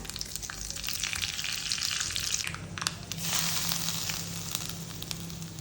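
Mustard seeds and two dried chilies fry in coconut oil for a Kerala cheera thoran, giving a loud, close, continuous sizzle with scattered crackles and pops, no voices.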